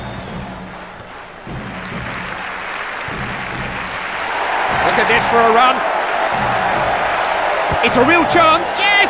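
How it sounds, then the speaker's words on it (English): In FIFA 07 a football stadium crowd roars and cheers, the swell rising louder halfway through and peaking in whoops, all beneath an excited commentator talking over the noise. "Oh, listen to the crowd."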